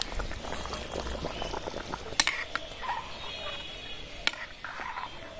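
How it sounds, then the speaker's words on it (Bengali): Ritha fish curry broth with fried fish and slit green chillies bubbles in a cooking pot, a soft continuous simmer with a couple of sharp clinks of utensil against the vessel. "ঝোলটা ফুটতে শুরু করেছে"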